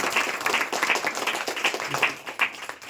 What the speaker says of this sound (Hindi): एक बार लोग जोरदार तालियां